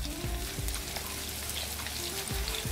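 Oil sizzling and crackling steadily as minced meat kofta fries, a continuous close hiss with scattered pops and light clattering.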